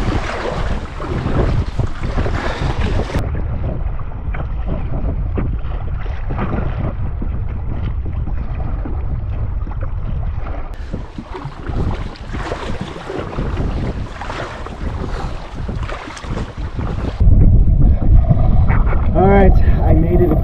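Canoe paddled across a windy lake in heavy spring rain, with constant loud wind buffeting the microphone and a rushing wash of water and waves throughout, growing harsher near the end.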